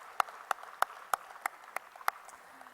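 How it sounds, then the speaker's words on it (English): Sparse, evenly spaced claps from a thin audience at a conference closing ceremony honoring the best exhibition stand winner; about eight distinct sharp claps over quiet room tone. "big round of applause for them"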